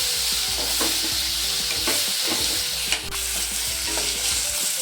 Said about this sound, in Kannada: ಇದನ್ನು ಮಿಕ್ಸ್ ಮಾಡೋಣ. ಎಲ್ಲದರಲ್ಲಿರೋ ಮಸಾಲದ ಸ್ಮೆಲ್ಲು ಹೋಗೋವರೆಗೂ ಬಿಸಿ ಮಾಡಿದ್ರೆ ಸಾಕು.